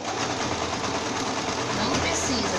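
A sewing machine stitching bias binding onto a small bag runs in a steady, continuous whir close by, loud throughout, with a voice faintly mixed in.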